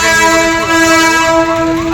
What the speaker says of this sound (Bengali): আর ট্রেনের সামনে বনগা লাইনের ট্রেন যাচ্ছে